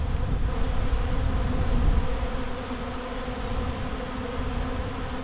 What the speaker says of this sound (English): This is a very fresh little swarm, so they're still a bit bonkers at the minute.